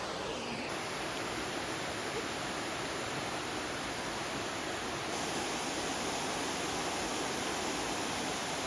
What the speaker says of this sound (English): Behind me apparently is Lower North Falls